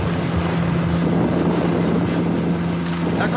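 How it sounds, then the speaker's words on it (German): Assault boats turning on open water, a loud steady motor hum blended with rushing wind and water noise, brief and continuous. "Die Sturmboote wenden."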